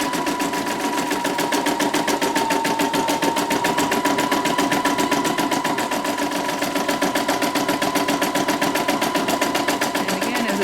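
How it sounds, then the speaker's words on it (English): A Poolin embroidery machine satin-stitching a design runs at a fast, steady mechanical rattle, each needle stroke ticking in quick, even rhythm, loud and close, with no voices. "it's going to do all that amazing satin stitching that you saw in the play out"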